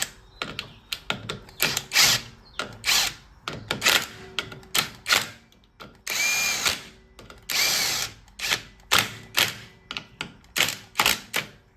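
A power tool drives clutch assembly bolts on a TVS Star City Plus BS6 motorcycle, close repeated short whirring bursts with clicks and thunks, a couple of longer runs in the middle.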